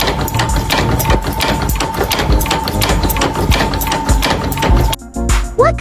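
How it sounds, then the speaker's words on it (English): An industrial pressing machine molding flat metal sheets into spoon bowls makes loud, rapid repetitive thumping and clattering under a steady mechanical hum, and the noise cuts out abruptly near the end. "Flat metal sheets are fed into a specialized pressing machine that instantly molds the concave bowl of the spoon"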